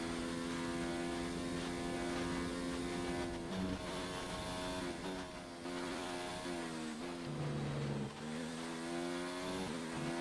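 A Formula 1 race car on the British circuit in the F1 2019 video game, engine droning high and loud with pitch dips as it downshifts, steady and close throughout with no voices.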